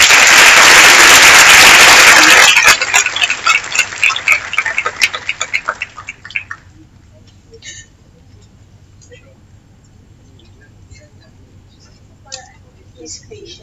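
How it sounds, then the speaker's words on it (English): Audience applause for a conference panel closing a Q&A session, loud and dense for about two and a half seconds, then thinning into scattered claps that fade out, followed by quiet room tone with faint sounds. "Can I have a round of applause for the panel?"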